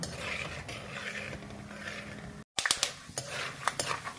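Peanuts frying in oil over a medium flame for poha chivda give off sharp little pops and crackles, a handful of distinct snaps against a soft sizzle.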